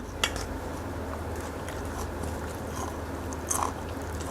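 Close, moist chewing and biting of raw pork larb with fresh vegetables and sticky rice, a few sharper crunchy bites standing out over a steady low background hum.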